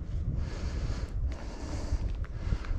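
Rough wind buffets the microphone outdoors on a rainy walk, a continuous low rumbling gust with uneven swells and a few faint knocks, no voices over it.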